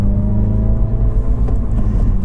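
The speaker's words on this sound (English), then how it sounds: "I just like the sound of it when it does its own rev matching when you downshift" A Mini's engine blips and drones steadily as it rev-matches on a downshift, with a continuous low hum and a slight surge around the middle.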